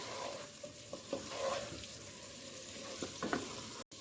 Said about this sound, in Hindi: अब मसाले के साथ आलू को 2 मिनट तक अच्छे से कुक कर लेंगे